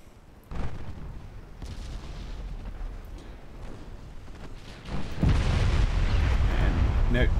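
Heavy 8-inch naval guns fire in a warship design video game, producing deep rumbling booms that swell and roll on, growing louder toward the end under continuous low-frequency noise.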